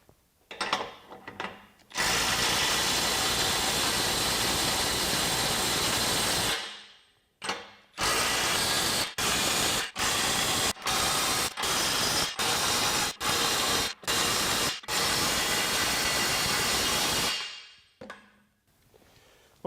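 A cordless compact impact wrench on its strongest tighten mode hammers bolts down, first in one long, loud rattling burst, then in a rapid series of short, sharp pulses.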